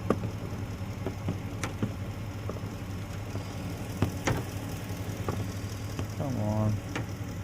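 A 2016 Ford F250 with the 6.2-litre engine idles roughly with a misfire and runs rich, a steady low rumble punctuated by irregular knocks and sharp ticks, with a brief rising whine near the end.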